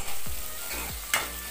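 Onions sauté in a pan, giving a steady close sizzle with a sharp scrape or stir near the end.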